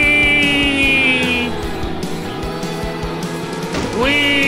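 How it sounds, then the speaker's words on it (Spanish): Tractor engines drone steadily in a video game tractor race, layered harmonic revving with a brief tire-squeal-like sweep near the end. "¿Quién no hace una carrera de tractores en su vida?"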